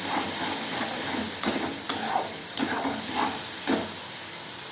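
A spice mix with turmeric being sautéed in a pan for Bengali mutton curry, under a steady bright sizzle with periodic soft scraping stirs, close and continuous, with no talking.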